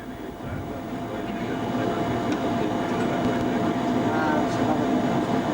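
A Romulus E train runs on the Pontebbana railway approaching the Udine switches at low speed, heard from the cab as a steady rumble with rising running noise and a few faint clicks from the track.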